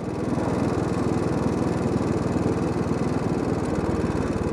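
A Royal Enfield motorcycle engine runs steadily close by, its rapid rhythmic valve ticking and thumping pulse continuous and loud with no talk.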